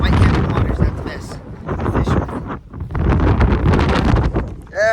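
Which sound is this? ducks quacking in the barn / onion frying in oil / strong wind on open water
strong wind on open water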